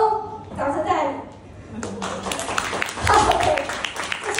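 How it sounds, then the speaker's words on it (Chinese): An audience claps in scattered, building applause that is mixed with a speaker's voice and some background chatter. "So， 掌声在哪里"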